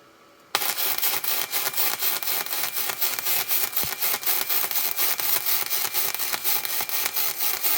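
ArcCaptain MIG130 flux core welder laying a bead on steel, a steady loud crackling sizzle that starts abruptly and runs continuously close up.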